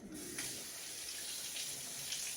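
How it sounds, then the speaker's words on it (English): A spoon is rinsed under a running kitchen tap, with a steady faint stream of water splashing and a light clink as it begins, heard alone and fairly quiet. "Rinse off my spoon."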